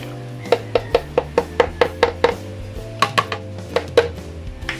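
A spoon or utensil knocks rhythmically against a pot or bowl while stirring a homemade peanut butter mixture with sugar and margarine or oil, giving a dozen or so sharp clinks in a steady beat, close and fairly loud.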